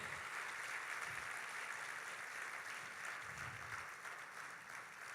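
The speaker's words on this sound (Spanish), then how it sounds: "Denle un aplauso fuerte al Señor." A Spanish-speaking church congregation applauds in a steady, even patter that sounds faint and distant throughout.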